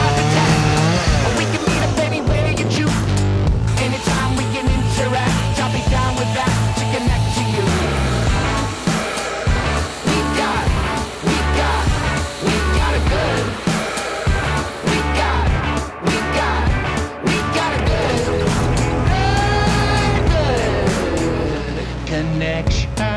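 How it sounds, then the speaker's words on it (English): A small skid steer runs outside with a loud, continuous engine roar whose pitch rises and falls as it works, close by and unbroken throughout, with no voices. "So that right there is some heavy machinery."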